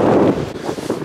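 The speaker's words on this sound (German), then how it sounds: "Es ist verdammt windig. Auf der Brücke ist windig." Strong gusts buffet the microphone on a bridge, a loud rumbling low roar that swells and fluctuates in short bursts.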